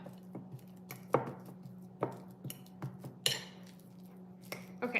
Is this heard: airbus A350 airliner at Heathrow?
no